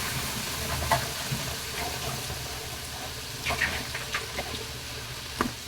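Water poured into an onion and tomato masala sizzling in a pan, with a continuous frying hiss broken by a few soft clinks and stirring taps.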